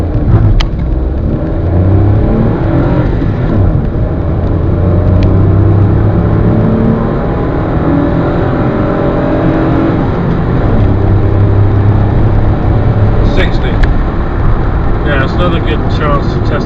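Toyota Aygo 1.0 2009 hatchback accelerating hard from 0 to 60 on a dry road, heard from inside the cabin: the small engine rises in pitch through the gears, with brief dips at each change, under steady road and wind rumble.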